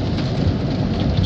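Steady heavy rain pouring down outdoors, a dense continuous hiss of drops drumming on surfaces with low rumbling undertones, close and loud throughout with no voices.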